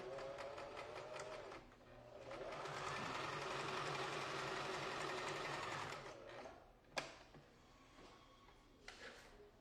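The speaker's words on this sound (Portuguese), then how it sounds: "A gente passa uma costurinha reta." Sewing machine running a straight seam on a fur jacket, a quiet rapid mechanical whirr that builds after a short start, holds steady for several seconds, then stops, followed by a few handling clicks.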